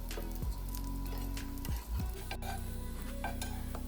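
Sweet potato pinwheels fry in a pan on low heat, a soft, steady sizzle with occasional light scrapes and taps of a utensil against the pan, quiet and without talking.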